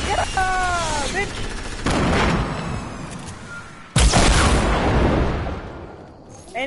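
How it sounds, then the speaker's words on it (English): Video game explosions and bursts of gunfire, with two heavy blasts a couple of seconds apart amid a rattling background, while players talk. "Any explosions you hear are me"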